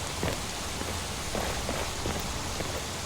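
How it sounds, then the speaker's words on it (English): Steady rain from a heavily modded Skyrim plays as a dense, even hiss with scattered soft patters and drops, constant and moderately quiet throughout with no voices. "I am impressed with the rain effects."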